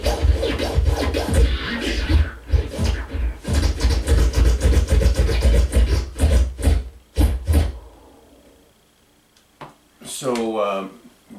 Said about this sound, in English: it gives you an idea of how you could scratch with using this unit